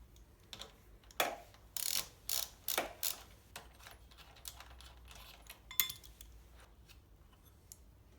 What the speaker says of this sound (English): we're just going to go and unloosen this clamp here and take off the little mounting bracket here for the end can